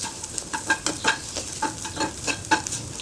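Chicken with egg and pepper being stirred in a frying pan, with a steady sizzle and repeated scraping strokes about every half second, close and moderately loud.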